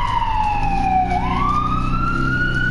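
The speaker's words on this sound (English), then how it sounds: "I know we hear another ambulance going by my house." An ambulance siren goes by a house, a loud, clear wail that dips in pitch and then rises again, heard alone without talk.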